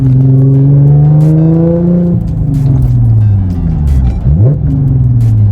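An Audi S5 engine revs up, then drops and climbs again with a throaty rising-and-falling tone, loud and close, with no voices.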